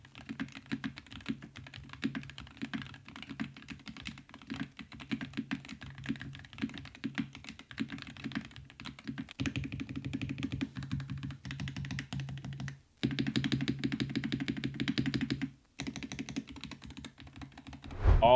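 Continuous typing on a Wooting Hall effect keyboard fitted with Lekker V2 switches, a steady close stream of soft clacks with brief pauses and a final burst, no talking.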